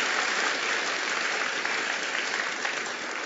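A church congregation applauds together at a New Year's Eve service, a steady, even patter of many hands clapping at a moderate distance, sustained without a break.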